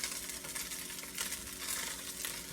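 About 5 cups of rice frying and being stirred in a pan, a continuous soft hiss and crackle with gentle scraping swells, fairly faint and steady throughout; no voices.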